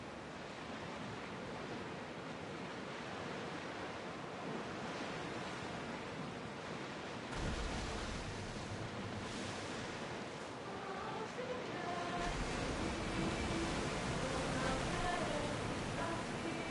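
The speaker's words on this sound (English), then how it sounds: "the waves are getting a bit rough, aren't they?" Rough sea waves in Assassin's Creed Odyssey wash in a continuous broadband surge, swelling louder after the midpoint and staying dense and close throughout.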